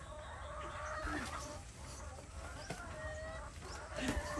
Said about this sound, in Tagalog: Yung mga chicken, pakita mo